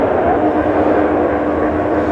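Roughly a hundred motorbikes gathered at a hospital revving together, a dense continuous engine roar that stays loud and even throughout, heard from a distance.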